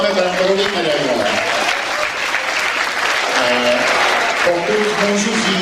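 Sustained, loud applause from an audience at a dance class party, a dense steady wash of clapping under music and an announcer's voice speaking over it.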